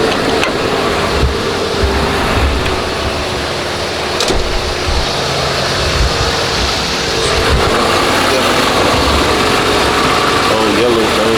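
A 1989 Lincoln Town Car engine idles steadily with a low, continuous rumble and vibration throughout, with a faint hint of voices in the background.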